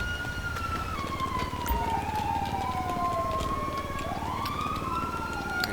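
A video game police car siren in FiveM wails with a rising and falling pitch over a constant low rumble, continuous and fairly close.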